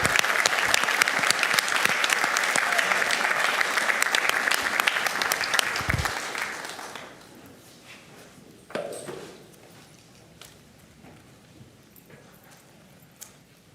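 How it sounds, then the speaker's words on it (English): Board meeting attendees applaud an honoree with loud, dense clapping for several seconds, then it fades to a few scattered claps, shuffling and faint murmurs in a room. "let's give her a huge applause of being made with pride in Duncanville."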